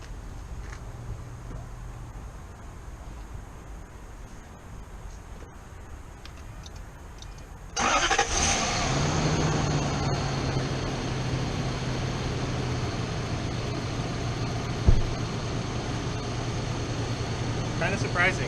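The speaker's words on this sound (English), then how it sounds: "I'm going to hop in the car and see if it fires up." Lexus LS400 engine, with a new fuel pump after sitting ten years on old gas, catches at once and settles into a steady, fairly loud idle hum that runs to the end after a quiet stretch.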